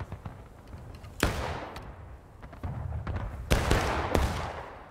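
Musket volleys in War of Rights, a Civil War game battle: sharp broadband cracks around the one-, three-and-a-half and four-second marks, each rolling into a long echoing tail over steady distant rumble and scattered far-off shots.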